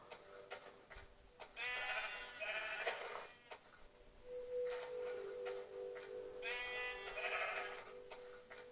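Sheep in the video game Minecraft on Xbox 360 give two pairs of wavering bleats, moderately loud, separated by a brief pause, over faint game background noise with no talking.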